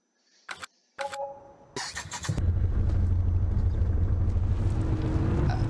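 A vehicle engine in Farming Simulator 19 starts with a few clicks and cranking bursts, then catches and settles into a loud, steady, rumbling idle that runs to the end.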